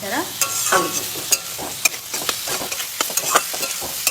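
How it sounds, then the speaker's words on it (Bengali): Carrots, beans, capsicum and chili frying in a pan under a sizzle, with repeated close scraping and clattering strokes of a spatula stirring them, and no voices. "কেটে রেখেছিলাম সেটা দিয়ে দেব বিনস ক্যাপসিকাম লঙ্কা ভালো করে এলে এটা নাড়াচাড়া"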